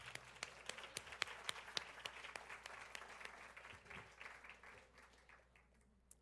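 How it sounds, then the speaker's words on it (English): Audience applause at a university social work homecoming and reunion celebration, steady clapping from a sizeable crowd that holds strong for several seconds before thinning out toward the end. "let's give them a big round of applause for their time"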